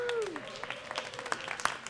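Audience applause at a Boston poetry reading, fairly light clapping across about two seconds with a tonal sweep at the start and scattered sharper claps.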